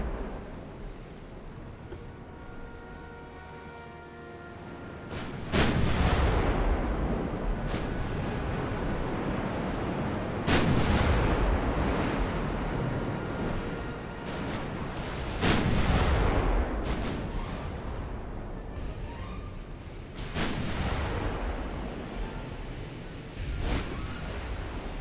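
Heavy naval guns from 1890s-era battleship hulls in Ultimate Admiral: Dreadnoughts boom in repeated salvos a few seconds apart, each blast rolling off over a constant rush of sea and wind.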